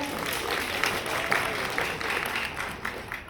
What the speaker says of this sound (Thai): ปรบมือได้ครับ